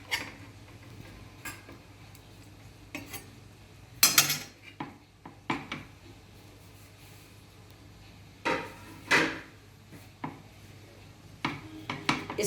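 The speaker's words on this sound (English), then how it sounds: "I'll empty this into the pan, slide this slowly into the pan." A heavy pav bhaji mixture loaded with masala is emptied and slowly slid into a pan, producing scattered clinks, taps and scraping knocks of utensil against cookware with quiet pauses between.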